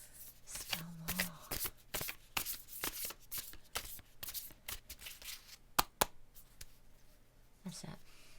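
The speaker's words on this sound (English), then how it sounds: "we'll just shuffle them a little bit more than we would do" Angel message cards are shuffled by hand in a run of crisp riffling and slapping bursts, close and fairly loud, with a few short vocal sounds between them.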